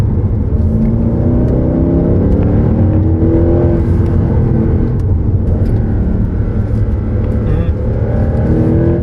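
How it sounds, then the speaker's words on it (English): A Mercedes-AMG Black Series on its standard exhaust revs hard and continuously, a loud, dense engine roar that rises and falls slightly throughout, close and steady with no break. "It's hard to believe that this is a standard exhaust on a Mercedes-Benz"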